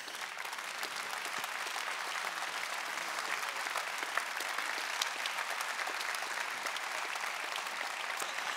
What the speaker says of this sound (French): pour que vous puissiez encore être applaudis par l'assistance